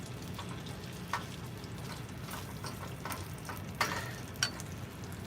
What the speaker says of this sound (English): we're going to fry up a little bit of these potatoes here, get them softened. All that pork fat's going to help to fry them